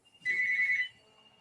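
A phone rings once, loud and near: a single steady high electronic tone lasting just over half a second, then fading to a faint lingering hum, with no talking.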